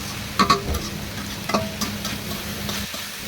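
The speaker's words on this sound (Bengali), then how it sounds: "থোড়টাকে এভাবে নেড়ে চেড়ে ভালো করে ভেজে চুলা থেকে নামিয়ে নেব" Chopped banana stem stirred and fried in a pan, a steady soft sizzle broken by a few sharp scrapes and clicks of the spatula against the pan, close and fairly quiet, with no talking.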